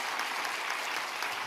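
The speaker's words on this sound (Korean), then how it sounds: "박수 한번 해주시면 좋겠습니다" A church congregation claps during a Sunday morning worship service to welcome a visiting missionary couple, with a steady, dense wash of applause filling the room throughout.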